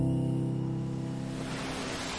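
Strong wind and large waves on a lake at night in a dramatized storm scene, a loud continuous rushing roar with a low droning layer beneath that eases slightly toward the end, with no voices.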